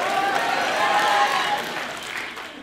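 A stand-up comedy audience breaks into applause, a broad steady patter of clapping that gradually thins toward the end.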